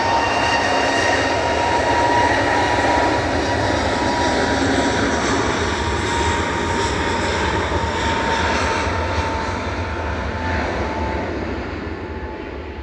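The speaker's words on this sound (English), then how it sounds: "Here goes GUZHI for EasyJet, flight 2285 to Agadir." An EasyJet airliner departing Manchester Airport on a flight to Agadir, a loud sustained jet engine roar with whining tones that holds steady throughout and eases slightly at the end, with no talking.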